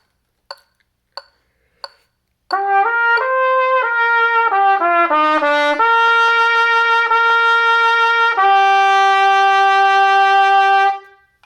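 A trumpet plays a sustained passage of held and stepping notes, loud and close, preceded by three short sharp taps.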